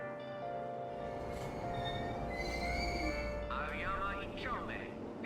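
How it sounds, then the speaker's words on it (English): Train ride in Persona 5 Royal: steady rumble of the carriage runs throughout, with tonal hums and a brief high squeal or chime near the end, while people talk over it. "Train doors are now closing."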